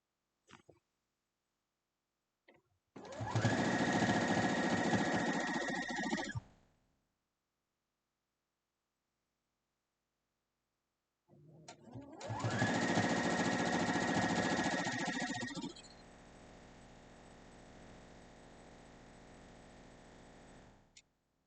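A sewing machine stitches a pillowcase made from one yard of fabric, two runs of fast steady whirring separated by a silent pause, the second ending in back stitching followed by a softer, lower hum.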